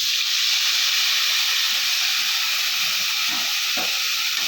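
Tomato paste ground with cumin, chili, ginger and a little cashew frying in a pan, a loud, steady, broadband hiss that fills the whole clip with only faint stirring knocks underneath.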